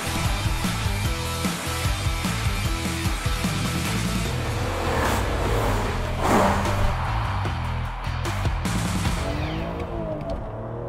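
BMW Z4 M with its S54 straight-six engine revving hard toward an 8,000 RPM redline, a loud, continuous, rising and falling engine roar with shifting tones, close to the car and with no talk over it.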